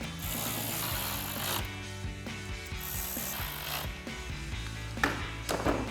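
Ratchet wrench clicking in steady rapid bursts while tightening 10mm bolts on top of a 2021-2023 Ford F-150 grille, close and continuous with a few brief pauses and a sharper knock near the end.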